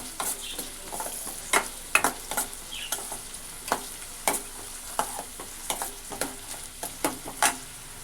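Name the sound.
green chillies frying and being stirred in a pan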